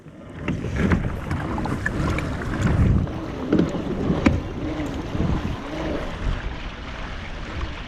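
Feelfree pedal drive kayaks race across open water, giving a steady rushing wash of water and wind noise with occasional splashes, continuous and fairly loud, with no voices.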